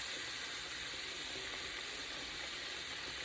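Pork chops frying in a pan, a steady, dense sizzle with faint crackles running unbroken at close range, with no talking.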